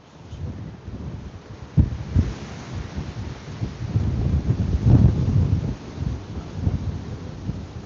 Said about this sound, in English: The whole fence is shaking with the wind.